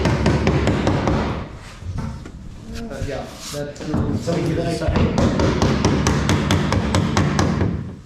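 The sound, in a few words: hammering rusty metal on race car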